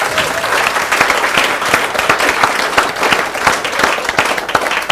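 Sustained audience applause at a distinguished lecture event, dense steady clapping from a large crowd filling the whole stretch with no break.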